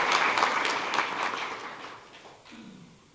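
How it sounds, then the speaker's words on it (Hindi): Audience applause at a Brahma Kumaris welcome gathering in Haridwar, a dense wash of hand clapping that is loud at first and gradually thins and fades over about three seconds, with no voices over it. "ताली बजाओ, ताली तो बजाने।"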